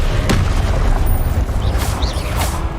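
A Confringo explosion spell bursts in Hogwarts Legacy amid a loud, continuous din of combat blasts and rumbling booms, with sharp crackling flashes layered over dense low-end noise throughout.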